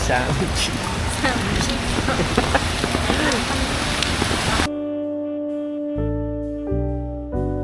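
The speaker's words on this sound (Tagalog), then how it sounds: "Sobrang lakas ng ulan." Heavy rain pours on Boracay Island as a loud, dense, steady downpour with faint voices underneath, then cuts off abruptly about two-thirds through into tonal music.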